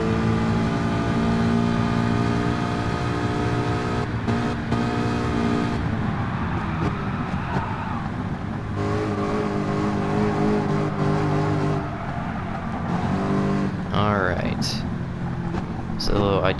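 A Ford Mustang engine in Gran Turismo Sport drones steadily with harmonic whine, shifting pitch as it accelerates and revs, loud and continuous, while someone talks over it.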